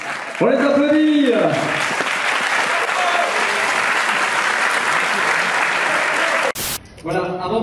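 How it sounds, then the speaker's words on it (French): A live audience breaks into loud, sustained applause after a kickboxing-themed stage appearance, with shouting voices over the clapping at the start and a brief cut near the end before it resumes. "On les applaudit."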